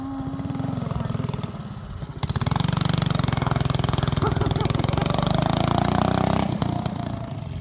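A Chinese four-wheeler ATV, built up from junkyard parts and driven by a chain with sprockets, runs with a rapid, clattering mid-pitched engine chug that rises and swells, while someone talks over it.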